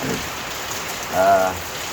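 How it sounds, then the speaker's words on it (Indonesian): Heavy rain pours onto an aviary roof in a steady, close hiss of drops, with a brief voice-like tone rising over it midway. "ngetes garapan posisi ini pas kena hujan deras. Ini posisi ini hujan."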